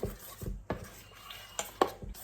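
A spoon scraping and knocking against a pan while jaggery batter is stirred, giving a few soft, irregular clinks and scrapes at close range.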